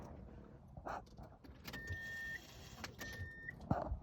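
A beater Subaru with a freshly repaired split fuel line cranks and catches, then runs in a low rumble while electric whirs and a couple of sharp clicks or clunks sound up close; no one speaks.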